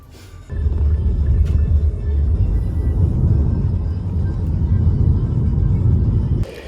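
Inside a moving taxi, a steady low road rumble and engine hum fill the cabin for several seconds, then drop away abruptly near the end.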